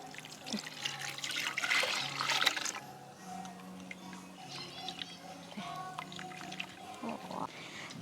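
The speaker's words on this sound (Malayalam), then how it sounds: "ഞാൻ വെള്ളം ഒഴിക്കുവാണ്." Water pours and splashes into a bowl to wash raw tapioca, loudest at first and then settling into softer sloshing and trickling, with faint background sounds.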